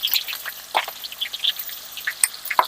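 Onion paste crackles in a pan with curry leaves, sparse sharp popping spatters scattered over a faint sizzle, close and fairly quiet.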